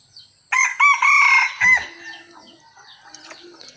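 A rooster crows loudly and close by in one drawn-out call, followed by softer clucking and low bird noises.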